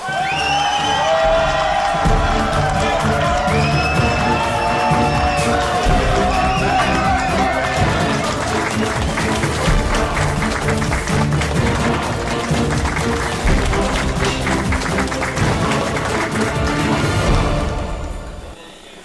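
A studio audience on a French TV game show applauds and cheers in a dense, steady roar that lasts almost the whole stretch before cutting off near the end, with a bright tonal layer running through it.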